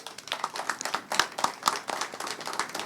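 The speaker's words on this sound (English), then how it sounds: "Let's give them a round of applause." Audience applause at a women's college basketball press conference, a short thin burst of scattered hand claps from a modest crowd, fairly quiet and close.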